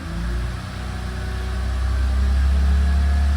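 BMW E46 330ci engine idling at raised RPM on a cold start with low coolant temperature, a loud steady low hum that rises slightly in pitch and volume as the idle climbs, close by with no talk.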